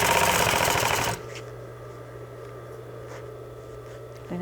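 A sewing machine stitches a French seam, a fast, loud whirring chatter for about a second, then stops, leaving a low steady motor hum and faint clicks.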